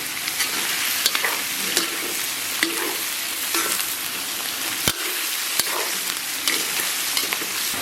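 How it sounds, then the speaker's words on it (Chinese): Pixian chili bean paste with ginger and garlic stir-fried in a wok, a steady loud sizzle with sharp scraping stirs of the spatula recurring throughout, no voices. "简单给它煸炒一下。"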